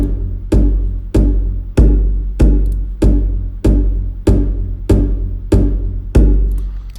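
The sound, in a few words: Albion Solstice Mard kits stomping kick percussion patch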